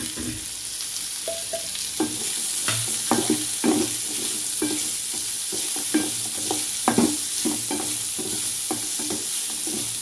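Onions sautéing in a pan for pirandai (adamant creeper) chutney, a steady sizzle with repeated scraping spoon strokes throughout, close and moderately loud, no voices.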